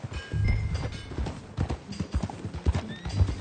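Horse hooves clip-clop in a steady trotting rhythm in Red Dead Redemption 2, close and fairly loud, with a brief whinny and occasional low game music or ambience underneath.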